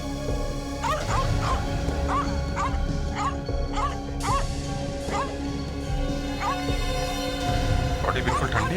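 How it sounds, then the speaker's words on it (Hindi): A distressed dog shut alone inside a house whimpers and yips in short repeated bursts, close and insistent, over a steady background hum with people talking nearby. "कुत्ता परेशान है।"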